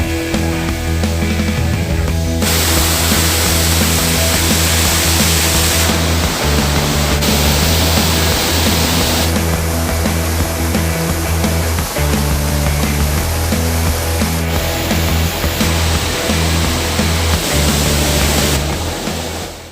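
Steady, loud roar of the Baruttung Gollae three-tiered waterfall heard up close, a dense continuous wash of falling water that holds constant throughout with slight shifts in texture and no voices.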